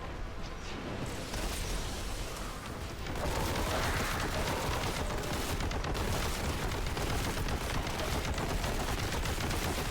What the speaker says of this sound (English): Just heavy fire, blasting them.